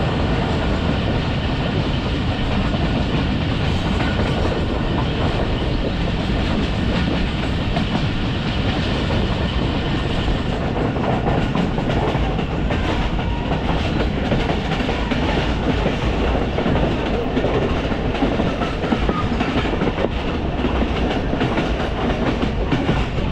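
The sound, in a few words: Tezgam Express train running past a railway station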